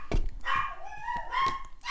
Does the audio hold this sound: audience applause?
no